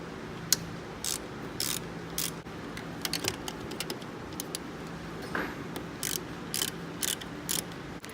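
A ratchet works the thermostat housing bolts on a Mazda RX7. Bursts of quick, close clicking come in short runs with pauses between them, over a quiet room background.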